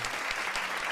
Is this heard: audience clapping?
yes